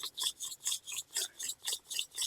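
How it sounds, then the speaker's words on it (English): Wooden hand drill spindle rubbing into a hearthboard, a dry rasping scrape pulsing in a steady back-and-forth rhythm of about nine strokes, close and fairly quiet with no talking. "you're basically drilling a hole in the hearthboard to where your spindle fits"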